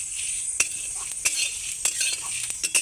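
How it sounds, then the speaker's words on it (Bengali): Chili and coriander spices being fried and stirred in a pan for a sweet-sour-hot pickle, soft sizzling broken by a few sharp clinks of a spoon against the pan. "মশলাগুলোকে ভালো করে সুন্দর করে লাল করে ভেজে নেব।"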